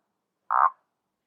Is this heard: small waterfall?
no